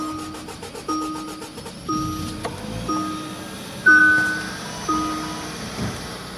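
Kia K7 with a 2.5 gasoline Smartstream engine, suffering a delayed-start fault, cranks with a repeating rhythmic pulse of about six evenly spaced surges over a steady tone before catching; close and fairly loud, with no talking.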